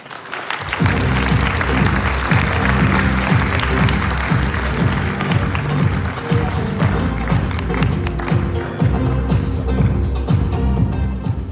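A conference audience at the XRPL Apex 2025 event in Singapore breaks into loud, sustained applause to welcome speakers to the stage, a steady dense clapping that starts abruptly and continues throughout, with music-like rhythmic thumps underneath.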